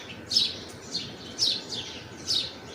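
Close, high-pitched bird chirps at a nest holding chicks, four or five short tweeting bursts in a loose, uneven rhythm, standing out clearly above a faint, constant outdoor hiss.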